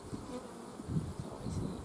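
Honey bees at an open nine-frame hive give off a steady, close buzzing hum that stays even across the whole stretch, with small swells in loudness and no voices.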